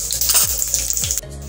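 Cumin seeds, bay leaves, black cardamom and cinnamon pieces hit hot oil for a tempering, giving a bright steady sizzle with a couple of soft clinks from a spoon against the pan, no voice.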